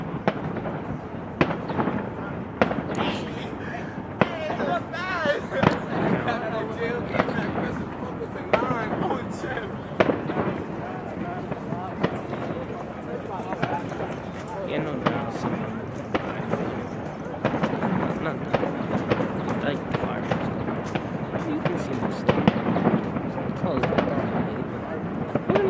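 Fireworks bursting over Co-op City, a dense run of cracks and booms of varied loudness, some near and some distant, with people talking throughout.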